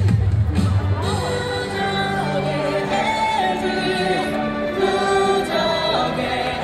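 A crowd at an LG Twins baseball stadium cheers and claps before a ceremonial first pitch, a broad roar of voices and applause under stadium music and chatter, loud and continuous.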